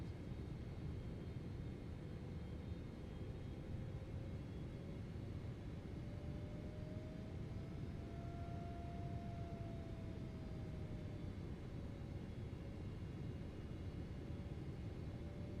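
An airliner on final approach to runway 18 right at LAX drones as a steady broadband engine roar, with a slowly gliding whine riding over the constant rumble heard from inside the cabin.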